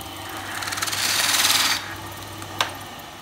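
A lathe whirs up and cuts a disc for comb honey frames, a brief buzzing, rattling grind that builds, holds for under a second, then drops back to a low motor hum with a sharp tap near the end.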